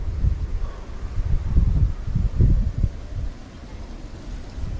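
Wind gusts across a hilltop in the Mappattukara hills near Pattambi, buffeting the microphone in a series of low, rumbling surges that rise and fall throughout, with no voices.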